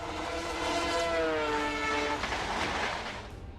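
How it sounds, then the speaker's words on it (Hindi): The Gatimaan Express semi-high-speed train on the Delhi to Agra line sounds a loud, sustained horn over the rumble and rattle of its wagons on the track, with the rail noise continuing after the horn fades. "मुल्क की पहली सेमी हाई स्पीड ट्रेन गतिमान एक्सप्रेस 100 मिनटों में ही दिल्ली से 200 किलोमीटर का सफर तय कर आगरा पहुंच गई।"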